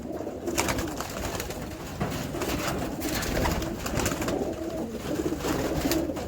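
Pigeons, including desert-origin Zahara pigeons, coo softly and repeatedly amid a busy rustle of wings and movement, a steady flock murmur with no talking.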